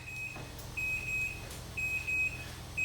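A kitchen timer beeps steadily, short high electronic tones repeating in bursts every second or so, fairly quiet against a low background hum.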